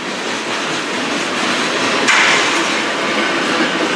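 A CN freight train rolls past on the Strathroy Subdivision, a steady, loud broadband roar of wheels and cars with one sharp metallic clank partway through.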